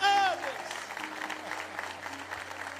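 Congregation in a church applauding together, a steady wash of clapping filling the space after a brief voice at the start.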